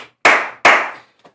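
Two sharp, loud hand claps land close to the mic in quick succession during a casual podcast chat about football, followed by a faint third tap.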